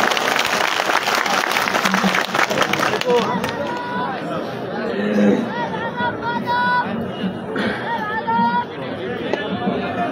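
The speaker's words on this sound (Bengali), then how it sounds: "আপনারা সবাই করতালি দেন" Crowd applause at a political peace and harmony rally, loud dense clapping at the start that gives way to crowd chatter and hubbub, with voices and shouts rising above the noise.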